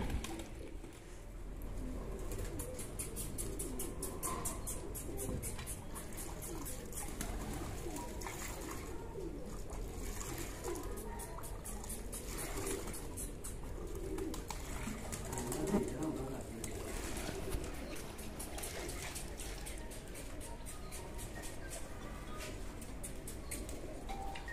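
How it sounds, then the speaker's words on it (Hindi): A pigeon perched on a net coos repeatedly at a steady rhythm, close and moderately loud, with low voices and background noise running underneath throughout. "आपके जाल पर कबूतर बैठा हुआ है"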